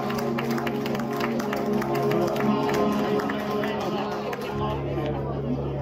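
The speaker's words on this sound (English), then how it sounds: "We have a round of applause for all the students today" An audience at a live music night at a pub called The Wicko claps for student performers, a busy patter of hands with a few cheers and background chatter, ending in a low amplifier hum.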